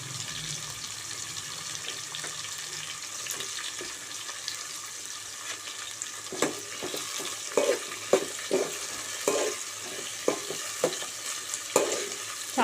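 Green chillies frying in a pan of oil while cooking upma, a steady broadband sizzle with stirring clatters growing more frequent in the second half, close and alone with no talk.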